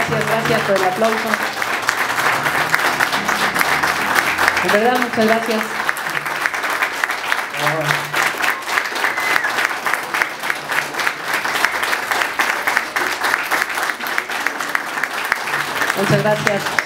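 Sustained crowd applause following a son jarocho zapateado performance, loud and continuous throughout, while someone speaks over it at several points.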